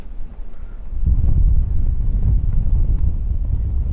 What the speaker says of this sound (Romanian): Din vest bate vântul.